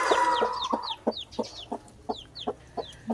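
Chicks cheep in quick, repeated high peeps close by, mixed with lower clucking bursts from nearby fowl.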